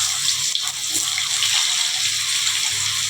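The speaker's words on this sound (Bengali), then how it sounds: "আলুগুলো ভেজে নিচ্ছি" Long-cut potatoes fry in hot oil, a continuous bubbling hiss with bright, watery crackle that stays steady and close, with occasional small pops and no voices.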